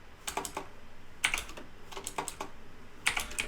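Quick clusters of keystrokes tap on a computer keyboard as text is entered into an online form, coming in close, crisp bursts separated by brief pauses, with no talking.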